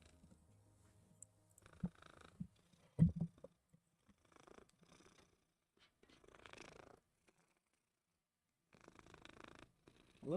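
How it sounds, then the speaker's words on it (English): A pet cat purring softly up close, the low rumble quiet and intermittent across several stretches with faint handling noises between them and no talk. "He's purring so good."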